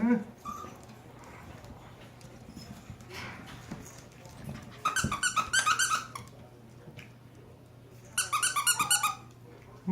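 Ginger puppies play at close range, with soft grumbles and scuffling, then two sharp bursts of squeaky whimpering, while a person speaks to them off and on.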